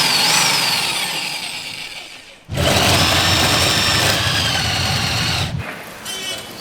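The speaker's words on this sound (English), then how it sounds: "electric drills are straight up the most dangerous thing ever" An electric drill runs in bursts while work is done on an airbagged Lexus LS430, with a loud, high motor whine that drops briefly, surges back and stops abruptly near the end.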